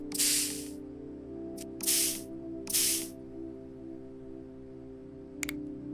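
Sealant sprayed onto dinosaur fossil bones in a paleontology simulation game: three loud, sharp bursts of aerosol hiss, each under a second, then a brief faint hiss, over a steady low mechanical hum.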